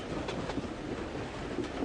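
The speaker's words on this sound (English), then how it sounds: "The train was getting nearer and nearer to Dover." Faint, steady rumble and rhythmic clatter of a moving passenger train running toward Dover, continuous and even throughout with no voices.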